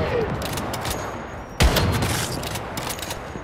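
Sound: grenade launcher bombing in the Once Human video game

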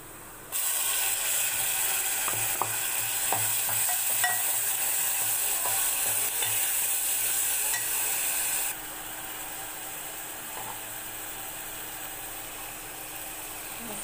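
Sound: onion, tomato and green chili frying in pan

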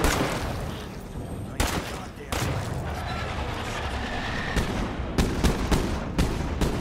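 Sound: shotgun firing semi-automatically in the video game State of Decay 2

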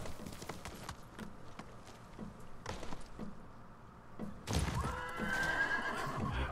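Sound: horse neighing in Ghost of Tsushima video game

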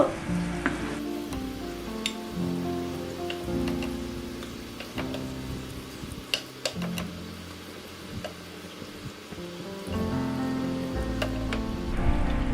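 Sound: chapli kabab sizzling while frying in a little oil

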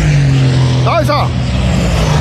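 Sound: SCG race car passing, Nürburgring NLS race

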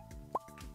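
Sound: watering plants in video game Stardew Valley

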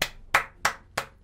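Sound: clapping, a round of applause

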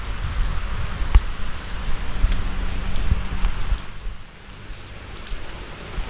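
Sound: rain falling

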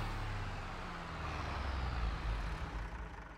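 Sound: tractor engine stalling, video game Farming Simulator 22

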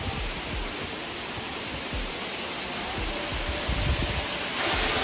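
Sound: loud waterfall water in a Gifu park

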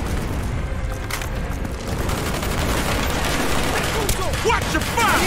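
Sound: gunfire in the video game Call of Duty Black Ops

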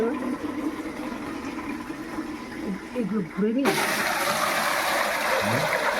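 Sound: washing dishes with running water

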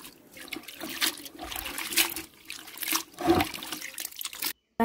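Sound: washing grapes in water

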